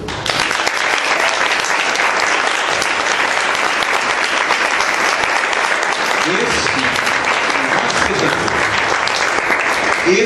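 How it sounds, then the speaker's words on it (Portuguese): A church congregation at a Baptist service claps loudly and continuously, a dense wash of applause filling the room for the whole stretch with voices mixed in underneath. "As palmas louvam o Senhor."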